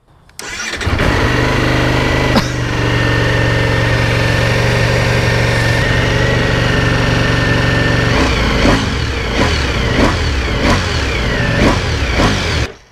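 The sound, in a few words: Ducati Panigale V4S 2025 motorcycle engine starting and idling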